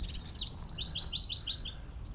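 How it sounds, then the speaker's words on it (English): A small bird chirps outdoors on a walk past private property, a quick run of bright high tweets close by, clear above low ambient rumble. "Hey, little bird."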